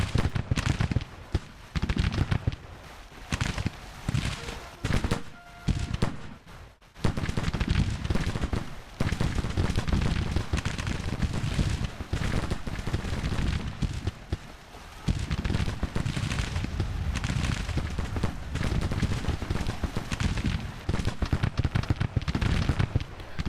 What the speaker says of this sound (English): Just go and shoot some people.